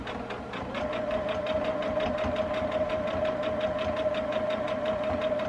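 A sewing machine stitches fabric for quilting, running at a steady fast rhythm of needle strokes with a constant motor whine, close and clear, with no talk.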